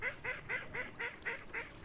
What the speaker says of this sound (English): Sounds like the ducks are excited too.